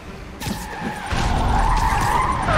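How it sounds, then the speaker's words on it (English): A truck skidding during a chase in the Spider-Man PS4 video game, a loud tire screech bursting in after a second and holding steady over engine roar to the end. "I need to follow that truck."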